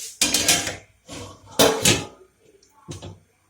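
A metal lid clatters onto a cooking pot of simmering minced meat, with several loud, close metallic knocks and scrapes followed by a softer final clink.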